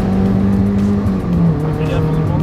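A Peugeot 205 GTI accelerates on a track, the engine droning loudly and steadily with a tone that shifts as the revs change. Background speech can be heard under it.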